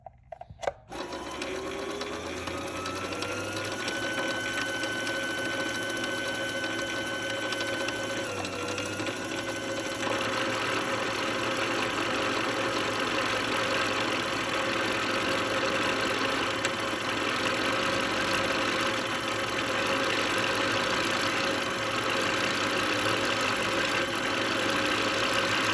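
A Brother CP100x sewing machine winds a bobbin at full speed, a steady close whir with a rising whine that spins on continuously without pause.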